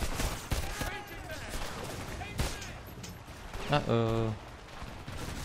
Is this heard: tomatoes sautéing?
no